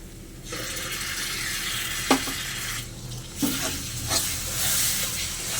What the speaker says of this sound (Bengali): টমেটোর পেস্ট আর মশলাটা আরও ভালো করে আমি কষে নেব